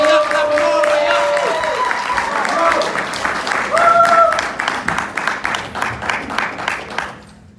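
Audience clapping at a poetry slam bout, loud and dense at first under talk and tones, then settling into rhythmic unison claps that fade out at the end.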